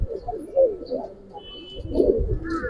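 Pigeons of giribaz and pankhi breeds coo at a pigeon market, a run of soft, low, overlapping coos close by over a murmur of crowd noise.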